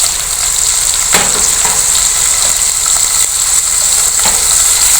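Loud, steady sizzling of onions frying in butter for chicken kofta curry, close up, with occasional faint stirring clicks over the continuous hiss.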